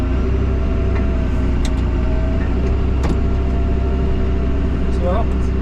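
A tractor pulling a slurry tank runs with a steady, loud engine drone that holds throughout, with a few faint knocks and creaks over the top and no clear rise in pitch.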